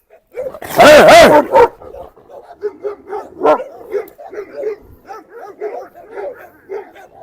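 A large Anatolian Shepherd dog barks loudly up close, a burst of deep barks, followed by softer whimpering and grumbling yips that trail off.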